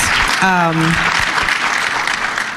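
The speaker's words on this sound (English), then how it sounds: "we can definitely clap for that fact." Audience clapping at a conversation event, a dense steady wash of applause from the crowd, with a brief vocal shout or cheer rising above it early on.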